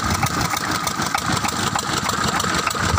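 A Petter engine driving a cement block mixer runs at a steady idle, making a loud, continuous mechanical drone close by with no voices.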